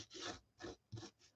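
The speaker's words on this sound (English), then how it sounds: "Just rub your ink pad lightly across it, and now you can see the stitches." Three short rasping rubs of an ink pad dragged lightly across cream-colored fabric stitching, quiet and close, with brief pauses between strokes.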